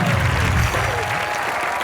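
Studio audience applause on a Hindi comedy talk show, a dense, steady burst of clapping sustained throughout at fairly close range, with faint voices mixed in.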